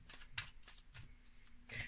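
Tarot and oracle cards are shuffled up close in a series of soft, quick riffling strokes, with a louder flurry at the end.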